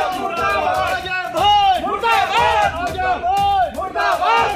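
A crowd of protesting farmers chants slogans loudly in unison, rhythmic shouted phrases rising and falling in repeated waves of many voices.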